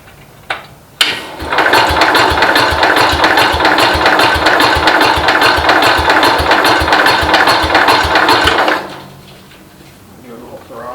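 Classic garden tractor engine firing up after sitting for years, starting with a sharp crank then a loud, rapid steady chug for about eight seconds before cutting out abruptly.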